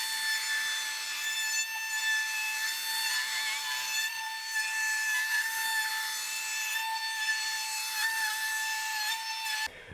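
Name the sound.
flattening a giant wood slab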